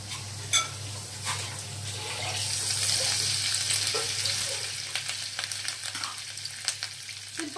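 Cumin seeds sizzle steadily in hot oil in a kadhai, a close, bright hiss with scattered pops and crackles throughout.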